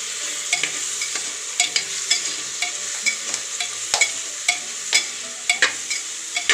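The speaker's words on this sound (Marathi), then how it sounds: "आता याच्यात 1 चमचा हळद टाकू आणि थोडंसं परतून घेऊ।" Masala with a spoonful of turmeric sautéed in a pan for masala rice: steady close sizzle with repeated sharp spatula scrapes and clinks against the pan, no talking.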